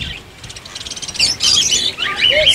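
A breeding pair of ringneck parrots calls in a home aviary, giving bright, high chirps and squawks, softer and pulsing at first, then louder and more overlapping, close by with no talk.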